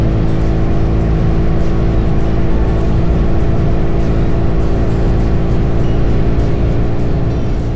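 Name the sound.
motorcycle engine rumble while riding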